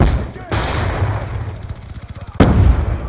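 Gunfire in Call of Duty: Black Ops 2: loud, close bursts of rapid automatic fire with sharp single shots and rattling rounds, heavy and continuous.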